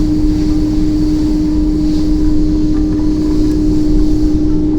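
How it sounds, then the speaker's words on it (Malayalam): Icelandair airliner climbing slowly after takeoff, heard from a window seat inside the cabin as a loud, unbroken engine drone with a steady humming tone underneath. "സ്ലോലി ഫ്ലൈറ്റ് മുകളിലേക്ക് പോകുന്ന"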